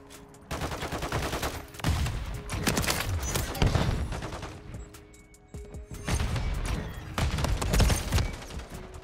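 Heavy bursts of automatic gunfire in Call of Duty MW3 multiplayer, loud and rapid, in several long volleys separated by short lulls, with no talk over them.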